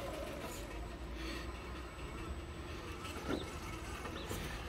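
An SCX10 III 4Runner RC crawler grinds steadily over a backyard dirt mound, its motor and drivetrain giving a continuous, even whir with a faint high whine and small bumps from the terrain.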